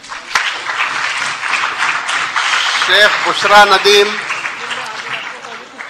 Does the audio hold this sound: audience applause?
yes